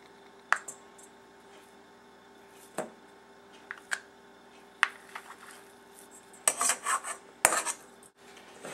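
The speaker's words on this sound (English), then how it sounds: "take a pastry, a dough blender, and cut in your shortening" Scattered metallic scrapes and clicks of a pastry blender cutting shortening into flour in a bowl, sparse at first, then quicker and busier toward the end.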